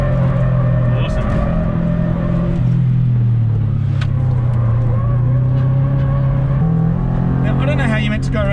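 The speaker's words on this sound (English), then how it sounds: "I'm thrashing the pants off this car." Subaru WRX STI or Toyota BRZ driven hard, its engine droning loud and steady with rising and falling revs through gear changes, a constant close in-car rumble throughout.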